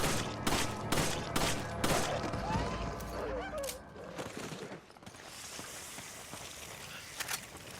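Rapid repeated gunshots in the video game Resident Evil 5, a dense burst of sharp loud cracks during the first few seconds, then quieter background game ambience with one more isolated shot.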